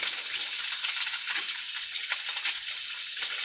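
Tofu in a soy garlic marinade fries in a skillet with a continuous, close, bright sizzle and scattered spitting crackles, heard alone.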